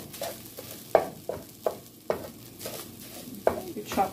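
Fried rice with broccoli and egg being stirred in a hot pan: continuous sizzling punctuated by sharp, repeated scrapes and clanks of the spatula against the pan, close up, with no voices.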